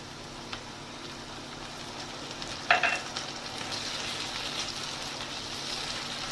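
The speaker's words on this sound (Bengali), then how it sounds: "পেঁয়াজ আর আদা রসুনের পেস্টটা ভালো করে ভাজা হবে" Onion and ginger-garlic paste frying in a pan at home, a soft steady sizzle with one brief sharper clatter of stirring partway through, fairly quiet and with no talking.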